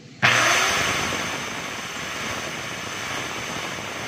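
A DeWalt 7-inch angle grinder switches on abruptly and spins up, then keeps a steady high whine with a constant tonal hum while running alone.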